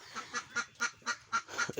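Ducks fed rice bran quack in a rapid series of about eight nasal calls, close by and fairly loud, with no talking.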